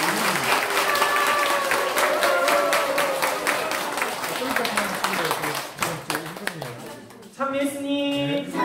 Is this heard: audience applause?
yes